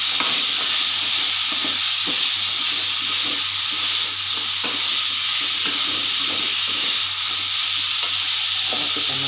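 Carrots fry in Balinese ayam betutu spice paste with a constant loud sizzling hiss, while a utensil stirs and scrapes the pan in irregular strokes.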